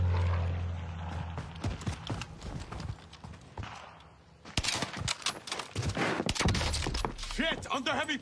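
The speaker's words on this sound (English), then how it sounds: "Under heavy fire here!" Heavy gunfire in a video game on the Fortune's Keep map, rapid bursts and clattering shots that grow dense and loud in the second half, mixed with in-game voices and effects.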